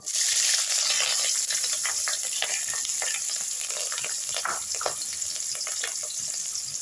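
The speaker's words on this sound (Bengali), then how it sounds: "এখানে আমি আলুটা ভেজে নিচ্ছি" Potatoes sizzle steadily in hot ghee in a pan, a close, continuous crackling frying sound with occasional stirring clatter.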